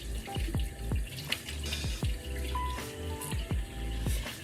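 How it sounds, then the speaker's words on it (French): Water runs from a tap into a sink while someone rinses their face, with steady flow, splashing and dripping close by, and no voices. "je vais rincer mon visage"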